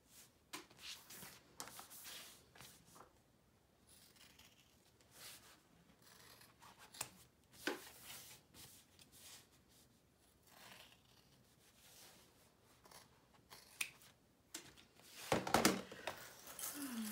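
Scissors cutting squares of fabric lining for a make-up bag, producing quiet, close snips in irregular clusters with short pauses and some light rustling of the cloth.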